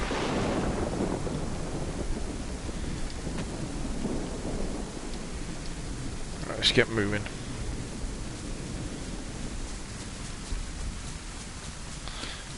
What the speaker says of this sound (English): There's no point waiting for the rain to pass, because rain takes forever.